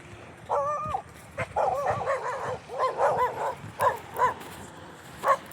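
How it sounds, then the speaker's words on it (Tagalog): Several large guard dogs barking and yipping in quick irregular bursts in Olongapo City, moderately close, over a low background hum. "May mga alaga dito, mga aso yan, yung malaki."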